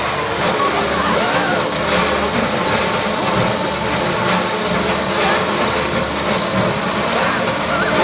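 A drill bores into a safety deposit box during the Fleeca bank heist in GTA 5, producing a loud, steady mechanical grinding drone that continues without a break.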